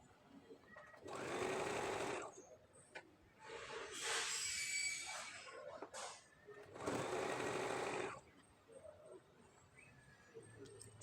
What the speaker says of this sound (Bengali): এবার আমি এটাকে সেলাই করে নেব।